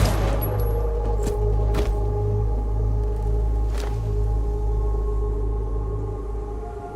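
A gunshot in the video game Zero Parades: a few sharp, sudden cracks that stand out over a heavy, continuous low rumble and drone, with no speech.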